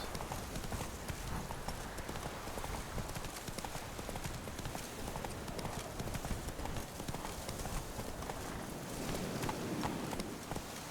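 Roach the horse galloping in The Witcher 3, a rapid continuous clip-clop of hooves with heavy rumbling footfalls, close and steady throughout, with a faint voice in the background.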